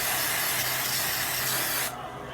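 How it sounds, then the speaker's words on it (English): A steady, close hiss of nonstick cooking spray lasting nearly two seconds, then cutting off abruptly into quiet room tone. "I'm gonna go ahead and spray this with some nonstick spray"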